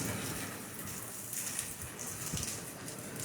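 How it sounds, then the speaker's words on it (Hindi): Heavy, continuous rain falls over a village in Soon Valley near Naushera, a soft, steady hiss of drops hitting surfaces that holds evenly throughout with no voices. "बारिश की अपडेट ये है कि बारिश काफ़ी सारी हो चुकी है, हो रही है और लगातार हो रही है।"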